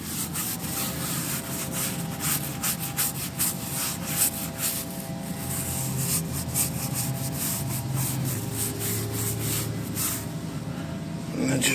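Whitewall tires on a Cadillac Fleetwood are scrubbed with soap, producing a continuous close, fairly loud brushing and rubbing hiss that runs steadily without pause.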